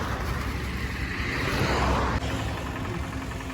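A vehicle engine rumbles steadily as a second vehicle arrives at a cattle market, with a broad, close mid-range drone that swells briefly and then settles back to an even idle.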